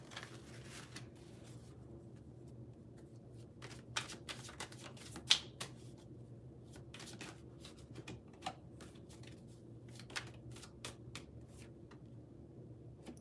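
A deck of cards is shuffled in a quiet room, giving soft, quick, scattered riffling ticks and light flicks with occasional sharper snaps.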